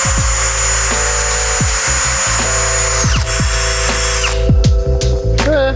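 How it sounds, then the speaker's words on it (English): A drill spins the back of a valve stem used as an eraser wheel in a car build, a loud close whine with stepped pitch changes as the rubber bites and rubs against the surface. "I saw a little Instagram reel that said you could use the back of a valve stem as an eraser wheel."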